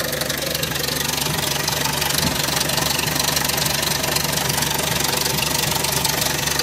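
1984 Toyota Starlet 1.3-litre carburetor engine idling with the hood open, a steady close mechanical clatter and hum with a faint knocking texture that continues without a break, and no voices.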